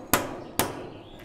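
A hammer strikes wood twice while a hanging lounge is being built, two sharp, close blows about half a second apart, each followed by a short ring.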